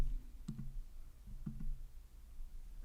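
Two faint, distinct mouse clicks on a software button, each a quick double tick about a second apart, against a quiet background hum.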